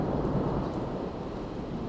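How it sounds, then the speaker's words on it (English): Low, continuous rumble of thunder after a large lightning strike during a severe storm, loud and steady throughout with a rain-like wash over it and no voices. "we heard a very large, loud lightning strike and thunder"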